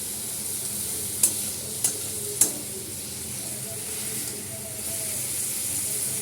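Garlic and spices fry in a pan with a continuous sizzle and hiss, broken by a few sharp stirring clinks near the start, no voices over it.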